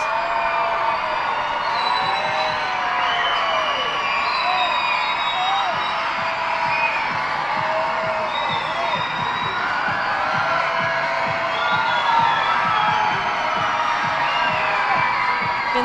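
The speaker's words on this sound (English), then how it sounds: "the crowd is making some noise" A baseball crowd at a minor league game between the Harrisburg Senators and Reading Fightin Phils makes steady noise throughout, a continuous wash of cheering, whoops and chatter from the stands with no clear pause.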